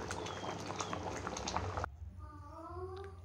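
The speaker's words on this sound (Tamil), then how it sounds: "சூப்பராக கொதிச்சிருச்சு பாருங்கள்" Field crab gravy with tamarind water boiling in a pot, a dense bubbling simmer that cuts down suddenly partway to a quieter bubbling with faint tonal sounds.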